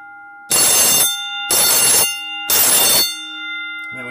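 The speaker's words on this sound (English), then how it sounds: "So you have the 24 volt vibrating bell strip." A 24-volt vibrating fire alarm bell rings in three loud, harsh bursts of about half a second each, spaced a second apart, with a steady electrical hum behind them and no talk.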